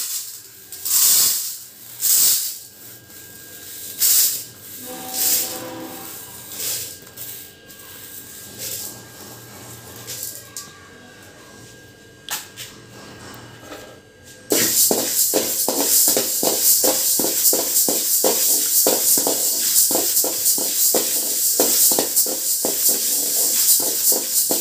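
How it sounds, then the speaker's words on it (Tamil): Horse gram dry-roasting in a pan, first in scattered scraping bursts as the grains are pushed around, then a dense, fast rattling rustle of the seeds tossed continuously. "அப்புறம்ங்க கொள்ளு போட்டு வறுத்துக்கலாம்"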